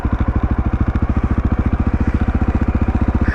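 A motorcycle engine thumps at low revs as the clutch is let out with a touch of gas and the bike begins to roll, its rapid, even firing pulses loud and close.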